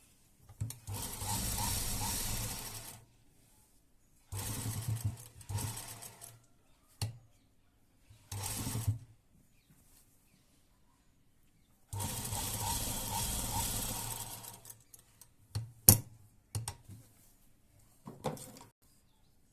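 A sewing machine stitches a double seam on cloth in several separate runs of a few seconds each, with the motor's fast whirring starting and stopping in bursts and quiet pauses in between.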